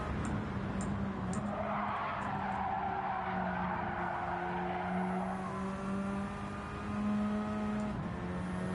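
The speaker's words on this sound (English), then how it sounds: "I get really anxious when I hear the car slide in." Race car tires skid and squeal during a Gran Turismo 7 multi-class race at Blue Moon Bay, a steady squeal over the droning engine that holds throughout.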